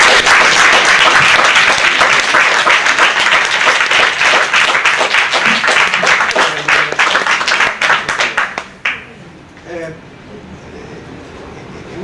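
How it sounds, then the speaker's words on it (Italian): Loud, dense audience applause fills the room for around eight seconds at a tribute event for Gianni Borgna, then thins into scattered claps and quickly dies away into quiet room noise. "Facciamo un applauso."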